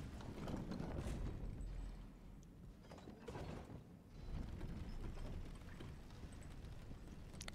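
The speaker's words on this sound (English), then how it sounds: "there should be an elevator right here" Elevator being called and moving in Elden Ring: faint mechanical clunks and sliding, grinding movement with a few sharp knocks over a low rumbling bed, fairly quiet and without talk.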